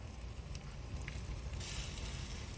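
Lobster tails sizzling on a covered grill, a soft steady crackle and hiss at low volume with faint pops, no voices.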